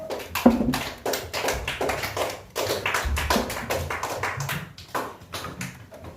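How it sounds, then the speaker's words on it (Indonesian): Children in an Indonesian religious studies classroom clap for a group, giving irregular bursts of hand claps and taps that rise and fall unevenly, moderately close, with no talk over them. "Kalau sudah paham, tepuk tangan untuk kelompok 3."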